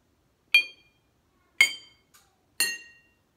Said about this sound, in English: And now I'm going to clink our glasses and see what the pitch did.